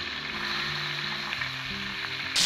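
Kingfish wings frying on a gas cooker give a steady, close sizzle that holds at an even level throughout, with a brief brighter hiss near the end.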